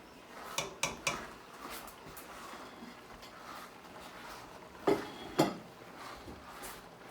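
A spoon stirs browning meat in a pot for homemade stew, giving a few sharp metallic clinks and scrapes against the pot. The sounds come in small clusters over a quiet background, with no voices.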